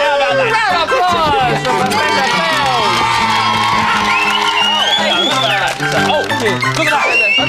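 A studio audience at a 1990 television comedy show cheers and whoops loudly over lively music, a dense continuous crowd roar that stays strong throughout, with voices mixed in.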